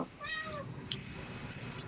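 A single domestic cat gives one quiet, drawn-out meow indoors, faint and brief against a low background hum.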